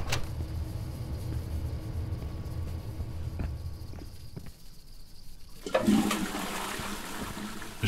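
A toilet flushes in the video game INFRA, a rushing gush of water up close that fades into quiet trickling before a fresh surge of water noise starts near the end; no one talks.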